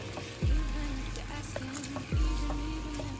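Garlic and lemon juice fry in a pan with a steady, fairly loud sizzling hiss, broken by two low thumps as the pan or contents shift.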